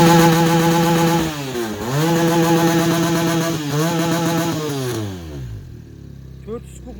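A Kawasaki motorcycle engine runs close and loud with a steady buzzing tone, dips briefly twice as the throttle is blipped, then winds down and falls silent near the end.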